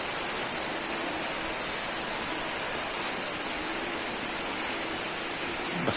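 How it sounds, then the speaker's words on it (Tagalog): Steady, dense rain hisses close and unbroken throughout, with no voices, falling where gamefowl are being prepared for training in wet weather. "Basta wag lang masyadong malakas yung ulan."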